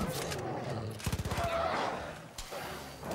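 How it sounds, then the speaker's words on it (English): A grenade explodes in the Far Cry New Dawn video game amid sustained rapid gunfire, a dense, thick blast layered with rattling shots and game effects at steady loudness. "The blast is way thicker than I thought it would be."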